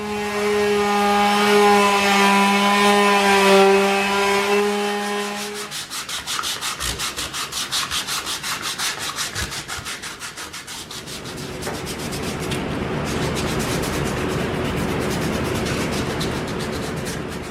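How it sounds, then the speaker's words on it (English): Sandpaper rubs steadily against a wooden beaver mount in rapid back-and-forth strokes, a close, loud, gritty scratching that continues throughout after a brief stretch of humming motor noise at the start. "let me get some sandpaper out and get it cleaned up a little bit."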